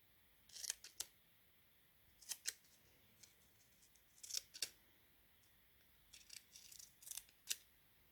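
Sharp, crisp snips of scissors cutting small notches in masking tape come in quick pairs and small clusters, close and fairly quiet, with short pauses between cuts.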